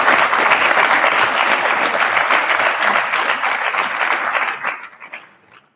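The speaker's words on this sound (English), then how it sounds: "Whoop, cheer, put your hands together for them" Audience at a winter graduation ceremony breaks into loud, dense applause with some cheering, holding steady for several seconds before tapering off to a few last claps and silence.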